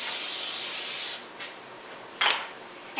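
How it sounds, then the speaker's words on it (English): Cooking spray hisses onto a casserole dish in one steady spray lasting about a second, followed by a couple of shorter bursts, close and clear, with nobody talking. "Gonna spray our casserole dish"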